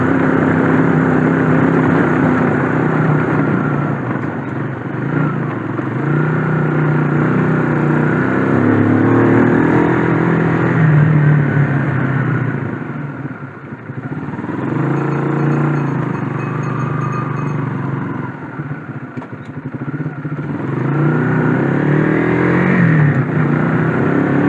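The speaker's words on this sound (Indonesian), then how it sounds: "Suara knalpotnya suara khas mesin overbore ya, mirip-mirip seperti Satria FU karbu" An overbored motorcycle engine's exhaust sounds on a road ride, loud and continuous, with repeated revving swells and dips and a brief drop in level midway.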